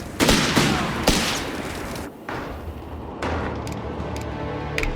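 Gunfire in the Company of Heroes 3 video game, a 4v4 battle: dense fusillade of rifle and machine-gun bursts with thumping impacts, loud and continuous, dipping briefly before resuming.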